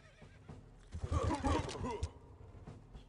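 A horse whinnies in Civilization IV, a bright, shaking neigh of about a second rising over quiet game ambience with a soft clip-clop underneath.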